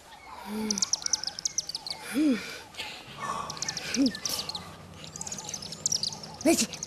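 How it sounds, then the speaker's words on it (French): Soft, low cooing hoots repeat a few times, the call of a mourning dove, among chirping birds and a whispered voice nearby. "Oh, ça, c'est une tourterelle triste."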